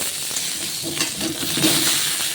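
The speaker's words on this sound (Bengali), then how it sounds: "আলুগুলো জানো তো একটু বেশি করে না ভাজলে ভালো লাগে না, তাই আমরা বিরিয়ানির ক্ষেত্রে আলুটা একটু ভেজেই নিই।" Potato pieces fry in hot oil for biryani, giving a steady close sizzle and crackle with bursts of stirring and scraping in the pan, growing a little louder toward the end; no one speaks.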